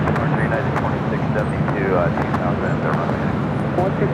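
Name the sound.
Asiana Cargo Boeing 747 jet at LAX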